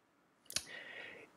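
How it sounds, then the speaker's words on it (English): Computer mouse clicking a save button, a single quick close click followed by a faint tonal hum in a quiet room. "So I'm going to click save."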